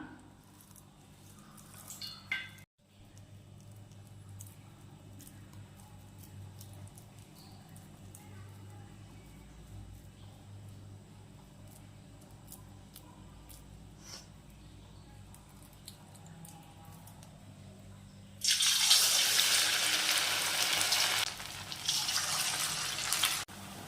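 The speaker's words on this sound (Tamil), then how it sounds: "எண்ணெய் ஊற்றி சூடு பண்ணிட்டேன். இதை சிம்மில் வச்சுக்கலாம். கலந்த மாவில் வடை தட்டி போட்டுக்கலாம்." Sago vadas, made from a pressed batter, dropped into hot oil and deep-frying: a quiet stretch of faint handling and small clicks gives way near the end to a loud, hissing sizzle.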